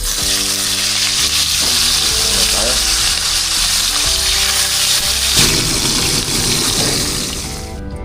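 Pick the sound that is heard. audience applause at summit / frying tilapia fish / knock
frying tilapia fish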